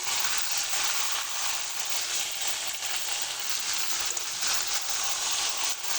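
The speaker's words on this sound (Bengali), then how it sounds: "মাংসটা আমি খুব ভালো করে কষিয়ে নেব।" Chicken stirred and fried with spices in a pan gives off a loud, steady sizzle that fills the whole stretch, with faint stirring scrapes mixed in and no voices.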